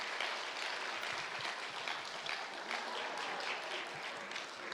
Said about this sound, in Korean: 자력 격려에 박수하십시다.